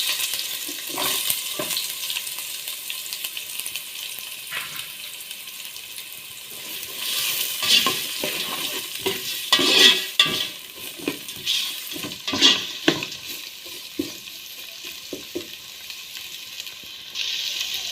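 Chopped onions sautéing in a pan for chicken dum biriyani, a moderate sizzle with repeated clinks and scrapes of a spoon stirring against the metal pan.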